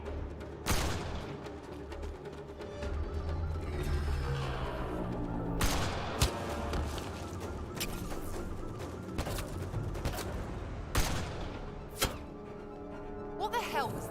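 Gunfire and impacts in Mass Effect: Andromeda, several sharp separate shots and booms spread over a busy combat backdrop, with voices shouting between them.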